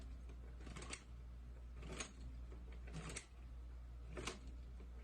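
A hand-powered lock-stitch sewing machine stitches a leather knife sheath, making four separate clacking strokes spaced about a second apart, faint and close against a low hum.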